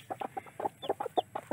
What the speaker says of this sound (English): There's three hens here that are all in a setting mood.